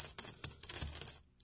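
A handful of old silver dimes, mercury dimes among them, drops and clatters close up in a quick series of bright metallic clinks that fade after about a second.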